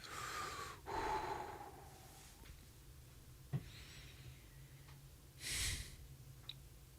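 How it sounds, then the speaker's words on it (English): A deep breath taken during a guided meditation: two slow, soft breaths, each an airy rush with a gasping edge, separated by quiet room tone and a faint click. "Take a deep breath."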